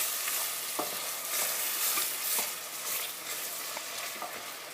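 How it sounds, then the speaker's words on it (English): Onions sizzle steadily in oil and butter in a pan for a chicken tikka masala, a continuous crackling fry broken by a few soft stirring scrapes, close and moderately quiet with no talking. "now that the onions and the oil and the butter is cooking"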